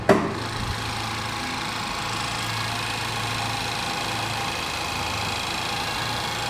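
A 2014 Chevy Malibu engine idles steadily with a low, even hum that runs on alone after a brief bump at the start.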